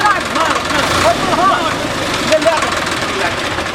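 Tractor engine starting and running, a steady broadband rumble that persists throughout, heard close by under people talking in Maithili in a rural setting.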